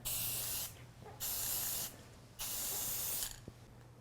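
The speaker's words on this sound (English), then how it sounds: "I remember now, I like this spray paint." Spray paint hisses from a can onto a homemade Super Mario Bros warp pipe in three long, steady bursts, each lasting about half a second to a second, with brief quiet pauses between.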